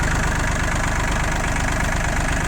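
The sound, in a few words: tractor engine idling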